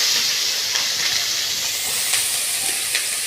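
Carrots fry in a hot pan for fried rice with a steady, close hiss and sizzle, even and continuous, with a few faint crackles and no talking.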